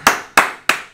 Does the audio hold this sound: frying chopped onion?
no